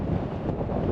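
Strong desert wind buffeting the microphone beside a Jeep on a dirt road near Joshua Tree, a loud continuous low roar with no speech.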